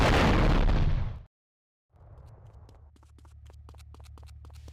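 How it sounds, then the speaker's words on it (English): An explosion in Grand Theft Auto III, a loud, broad blast that cuts off abruptly, then after a short silence a rumbling engine hum with rapid clicking and ticking sounds. "Loud, funny explosion."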